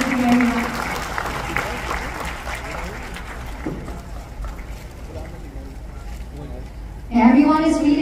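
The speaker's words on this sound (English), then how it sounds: "Let's give them a big round of applause, everybody." Audience applause at the red carpet premiere of the film Sa Likod ng Tsapa, a steady crowd clapping mixed with cheering and voices that runs for several seconds, then a louder burst of music or speech near the end.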